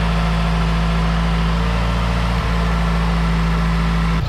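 A Mazdaspeed 3 engine idles steadily at close range, a constant low throbbing hum with a brief dip partway through.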